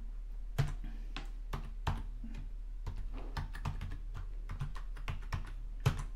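Irregular quick keystrokes on a computer keyboard as a password is typed, close and crisp with short pauses between bursts, over a low steady hum.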